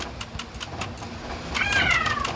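A kitten lets out a single clear, drawn-out meow near the end, close and fairly loud. Soft ticking and faint background noise come before it, with no talking.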